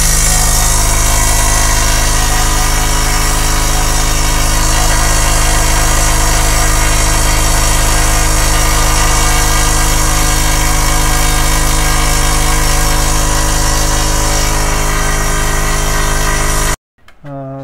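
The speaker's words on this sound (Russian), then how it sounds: "Три минуты 48 секунд потребовалось 480-му Виеру для того, чтобы накачать 19-литровый баллон до 9 атмосфер." A Viair 480 air compressor runs steadily while filling a 19-liter tank to 9 atmospheres, a loud continuous motor hum and rattle with strong tonal drone, cutting off abruptly near the end.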